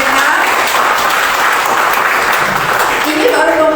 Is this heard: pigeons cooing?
no